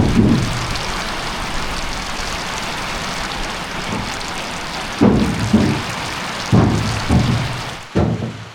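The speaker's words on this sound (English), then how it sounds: "I don't know if you can hear it, but it's pouring out." Steady broadband hiss of heavy rain pouring down outdoors at a homestead, continuous throughout, with a few louder low thumps and splashes near the end.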